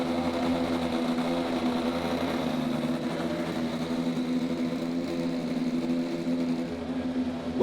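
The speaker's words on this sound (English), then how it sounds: "Drivers, start your engines!" Indy NXT by Firestone race cars idle together on the grid at the Indianapolis Grand Prix road course, a steady, loud droning engine hum with a strong low tone that holds unbroken throughout.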